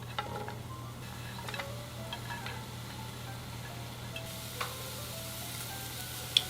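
Onion and carrot stir-fry in a lightly oiled hot pan with a soft, steady sizzle and scattered small clicks of stirring, fairly quiet throughout.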